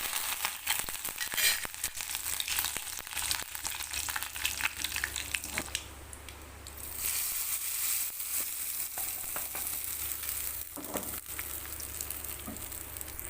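Mustard seeds, dried red chillies and curry leaves crackle and sizzle in hot oil while tempering, a dense steady frying hiss with sharp popping spatters throughout.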